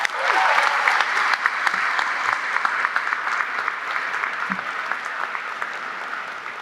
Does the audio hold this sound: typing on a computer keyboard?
no